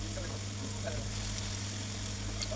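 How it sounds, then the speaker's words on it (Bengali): Round fritters sizzle steadily in hot oil, a continuous close frying hiss over a low background hum, with faint voice-like sounds in the mix. "এরপর এটাকে গোল গোল শেপ দিয়ে ফ্রাইং করে ভেজে নিচ্ছি।"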